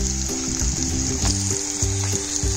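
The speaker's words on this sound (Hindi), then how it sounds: "अब हम ये ऑनियन को इसके अंदर डाल लेते हैं" Chopped onions hit hot oil with crackled cumin, giving a steady, loud close-up sizzle with bubbling frying texture throughout, no voices.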